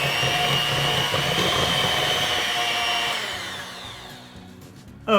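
An electric mixer beats gingerbread cookie dough sweetened with a maple syrup substitute, a steady loud motor whir that holds for about three seconds, then winds down and fades, ending with a short clatter.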